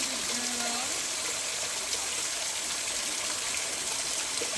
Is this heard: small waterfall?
yes